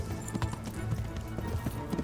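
Galloping horse hooves thud in quick, regular beats in the medieval video game Kingdom Come: Deliverance, close and continuous, with a faint snort among the hoofbeats.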